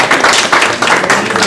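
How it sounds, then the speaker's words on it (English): An audience claps for retiring school staff at a school board meeting, a short burst of dense, steady hand clapping heard up close. "I think we should just clap for everyone"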